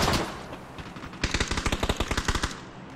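Rapid automatic gunfire in PUBG on the Sanhok map: a loud, tightly spaced burst of about a dozen shots follows a few quieter scattered sounds, with no talk.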